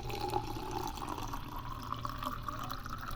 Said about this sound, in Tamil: ஒரு அரை கிளாஸ் தண்ணி ஊற்றி அரைக்கணும்